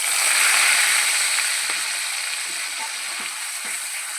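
Mustard paste sizzling in a small amount of hot oil seasoned with nigella seeds, in a curry with ash gourd, a steady loud hiss with a few soft stirring taps, no voices.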